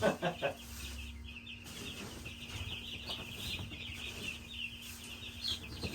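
Young meat chickens, including roosters, cluck and murmur in a hollow brooder, fairly quiet and continuous, with a steady electrical hum in the background.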